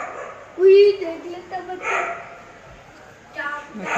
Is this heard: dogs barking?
yes